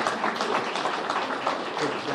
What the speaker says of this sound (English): Not many news conferences end with a round of applause